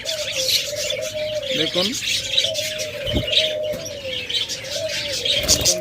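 Caged cockatiels, lovebirds and budgerigars keep up a busy stream of high chirps over a sustained low cooing tone, fairly near, while someone says a brief word.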